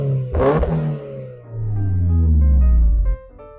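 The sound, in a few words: Toyota GR 86 engine starting up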